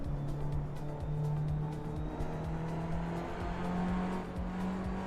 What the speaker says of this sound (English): I did notice the tyre skid sound quite a lot